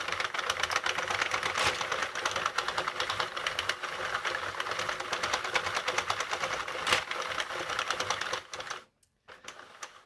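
Hand-cranked sock knitting machine working yarn, a rapid continuous clatter of needles with a steady mechanical rhythm, close and fairly loud, slowing and stopping near the end with a few last clicks.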